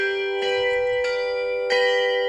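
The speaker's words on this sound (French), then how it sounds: "son carillon flambant neuf pouvant jouer les hymnes de 33 pays" The brand-new carillon at Château Angélus rings out, three bright bell strikes in quick succession with long, sustained tones hanging between them.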